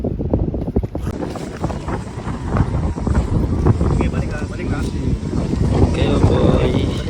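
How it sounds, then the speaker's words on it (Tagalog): Strong wind buffets the microphone steadily over open water during a pigeon derby race in Naga, Camarines Sur, a constant roar with boat noise underneath and no break. "Lakas ang hangin."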